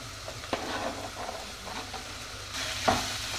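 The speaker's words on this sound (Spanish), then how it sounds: "Sofreímos por unos minutos." Onion, garlic and bell pepper sautéing in olive oil in a pan, a steady soft sizzle with occasional stirring scrapes and knocks of a utensil.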